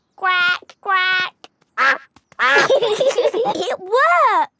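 A voice imitating a duck gives two loud nasal quacks close up, then brief giggling and chatter follow, ending on a drawn-out quacking call.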